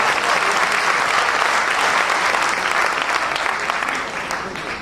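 An audience at a Hindi comedy event applauds loudly, a thick continuous roar of many clapping hands that holds steady and then tapers slightly toward the end.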